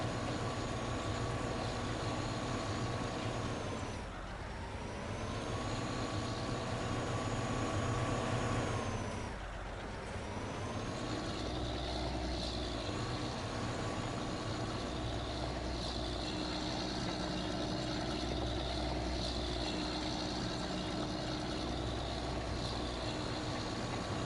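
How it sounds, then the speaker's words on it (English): Tractor engine in the video game Farming Simulator 19, a steady loud droning rumble with a high turbo whine that dips twice and recovers, running continuously without talk. "This tractor sounds so good too."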